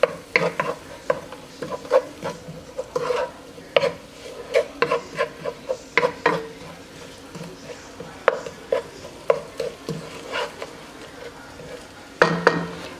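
Scraping and stirring of a food mixture in a pan for creamy beef and potatoes, repeated close utensil strokes against the pan in an irregular rhythm, with a faint sizzle underneath.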